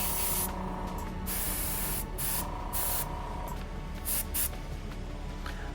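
An airbrush sprays Huge Miniatures Sun Orange paint in a continuous loud close hiss, cut by several short pauses as the trigger is released and pressed again.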